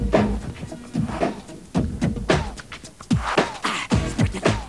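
Someone beatboxes drum sounds with his voice, imitating a drum machine with punchy kick thumps, snare-like bursts and breathy hi-hat hisses in a steady groove, loud and close.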